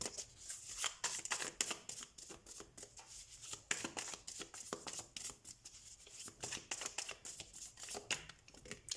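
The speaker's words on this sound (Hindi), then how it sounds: "तो हम कार्ड शफल कर लेते हैं।" Tarot cards shuffled by hand in a quiet room, a rapid series of soft, crisp riffles and slaps repeating through the whole stretch, close and faint with no talking.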